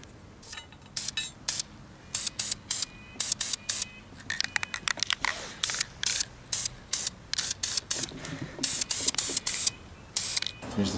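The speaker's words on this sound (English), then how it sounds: "So I want to get a little coat of paint on those too." Short bursts of spray paint hiss onto nylock nuts on a motorcycle swing arm bag mount plate, coming in repeated quick sprays separated by brief pauses.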